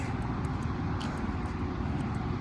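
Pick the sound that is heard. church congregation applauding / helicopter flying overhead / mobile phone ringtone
helicopter flying overhead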